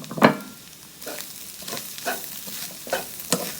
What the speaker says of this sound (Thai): วันนี้ผมจะผัดแห้งๆ ไฟแรงๆด้วยนะครับ ผัดจนหนูนาสุกนะครับ